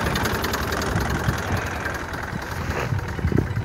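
Opel Kadett 1.3 OHC car or IMT 533 tractor engine running on a slippery, muddy village hill, a steady close mechanical drone with some knocking roughness throughout.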